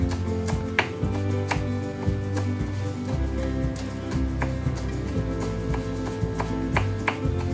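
Knife finely chopping fresh rosemary on a cutting board, a steady run of quick, close taps with a low hum of background noise underneath.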